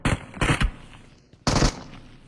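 Bursts of video game gunfire rattle out in three loud, close volleys separated by short gaps, with no voices over them.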